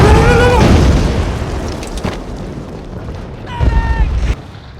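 Artillery shell explosions during a barrage in a war drama episode: a heavy low boom opens, a fainter rumbling blast follows later, with shouting voices over the bombardment.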